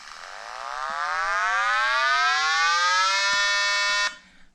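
A recording of a 40cc Samurai engine plays back from a computer, a rising buzzy whine that climbs steadily in pitch, holds loud and high, then cuts off abruptly near the end.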